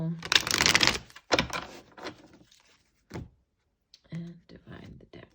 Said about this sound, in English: Okay, I would do one last shuffle.